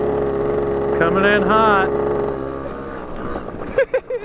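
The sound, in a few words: Honda Gyro engine running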